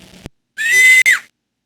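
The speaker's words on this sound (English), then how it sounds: "There was a scream." Scream in a vampire video game: a single loud, high, shrill cry lasting about half a second, with a very short break near its end, heard alone after a brief click.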